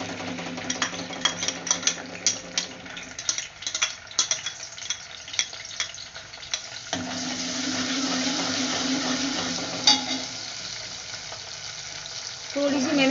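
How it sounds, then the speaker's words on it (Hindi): Garlic-ginger paste fries in hot oil for an arvi sabzi: clattering stirs give way to a sustained, bright sizzling hiss that swells partway through and stays steady, fairly close. "ये लहसुन अदरक का पेस्ट जो मैंने आपको दिखाया था वो मैं डाल रही हूँ"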